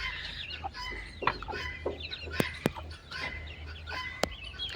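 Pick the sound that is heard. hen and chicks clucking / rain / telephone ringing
hen and chicks clucking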